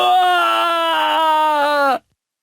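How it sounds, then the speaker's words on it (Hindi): A man's loud, sustained, high-pitched scream in a forest horror-story scene. It holds for about two seconds, cuts off abruptly and leaves silence. "विक्रम जोर से चीखता है।"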